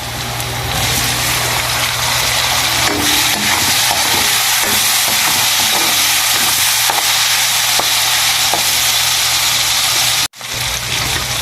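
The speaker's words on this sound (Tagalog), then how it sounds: "Lagay na natin yung mushroom." Mushrooms hit a hot frying pan with onions for creamy chicken mushroom, setting off a loud, continuous sizzle with stirring clatter that runs nearly unbroken, with a brief drop near the end.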